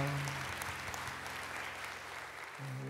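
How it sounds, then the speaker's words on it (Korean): Steady applause from a church congregation at a New Year's Eve service, sustained and fairly even for several seconds, with a low hum or organ tone underneath and no talking. "우리 한 해 동안 지켜주신 하나님께 감사와 영광의 박수 올려드리겠습니다"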